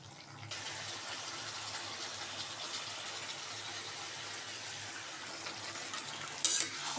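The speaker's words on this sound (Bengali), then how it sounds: "তো মাংসটা কষছে এর মধ্যে আমার মশলাগুলোকে আমি অ্যাড করব" Mutton with onion paste, coriander, turmeric and red chili fries in a pan, giving a continuous, even sizzle with a faint wet hiss that lasts throughout, plus a brief scrape near the end.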